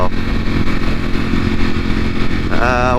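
A 2020 Ducati Panigale V4 R sportbike engine roars steadily and loud up close while riding, a dense continuous drone with a rising rev near the end.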